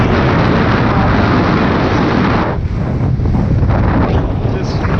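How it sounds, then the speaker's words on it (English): Loud roaring gale wind batters the microphone over rushing surf of waves about 60 feet high, a dense continuous roar with a brief dip midway. "footage of what the waves are doing in the wind"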